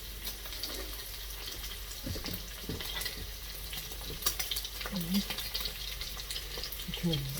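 Vegetables fry in a pan for Kung Pao beef, a close, steady sizzle with scattered pops and stirring clatter, plus brief faint voice-like tones near the end.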